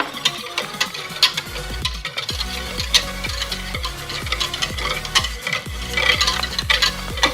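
Spiced buttermilk (neer mor) being mixed with a utensil, a steady run of regular stirring strokes knocking against the vessel, close and fairly loud with no talking.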